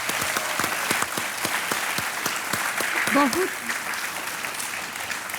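Studio audience applauds on the Kaun Banega Crorepati game show as a contestant wins 12,50,000 rupees: dense, sustained clapping that fills the room, with a voice speaking briefly partway through.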